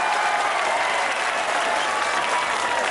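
An audience at a political speech breaks into dense, sustained applause, loud and continuous throughout with a faint crowd murmur beneath it.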